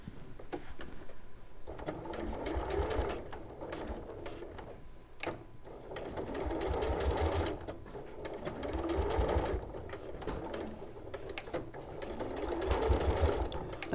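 A home sewing machine stitches a daffodil quilt in repeated bursts of steady mechanical whirring, each run a few seconds long with short pauses between, close and fairly loud.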